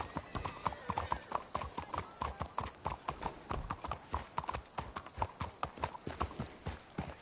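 Horse hooves clip-clop at a steady walking rhythm in the Western video game Red Dead, the repeated hoofbeats faint but clear and continuous throughout.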